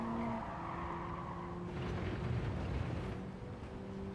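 A 2022 Honda Civic Type R racing at Circuit de Spa-Francorchamps, with a close, steady engine note that shifts pitch and a rush of road and wind noise as the car pushes on.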